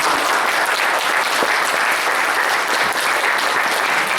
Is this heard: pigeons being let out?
no